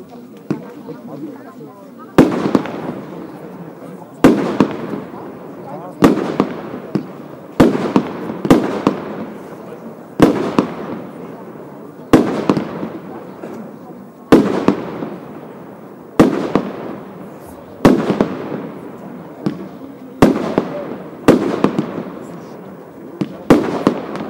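A GAU Diamond 3 fireworks battery fires a sequence of shots with silver palms and blue and red stars, each a sharp loud bang followed by crackling decay, coming at a steady rhythm of roughly two seconds over more than twenty seconds.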